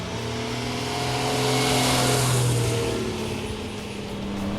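A 1960 Ferrari 250GT V12 exhaust howls at high RPM, a loud, close, sustained rev that swells in the middle and eases slightly before holding, with no talking.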